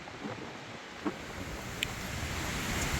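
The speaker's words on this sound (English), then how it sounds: "Yeah, it's really windy, so you probably can't hear" Steady, broadband wind roar buffets the microphone outdoors in Honduras, with a couple of brief knocks and no talking.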